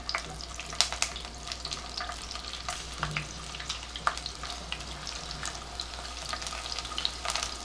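Garlic sautéing in a pan for homemade pizza sauce, a steady soft sizzle and frying crackle with scattered clicks and scrapes of stirring, close and continuous with no talk.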